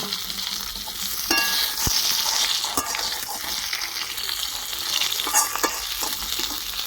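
Koi fish sizzling and crackling in hot oil seasoned with cumin, a dried chili and a bay leaf, with a steady close frying hiss and a few sharper pops and spits throughout.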